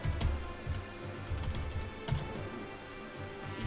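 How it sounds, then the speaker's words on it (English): Rapid typing on a computer keyboard, irregular clusters of soft clicky keystrokes close to the mic, with short pauses between bursts and no talking. "I know you guys love to hear the sounds of me typing on my keyboard"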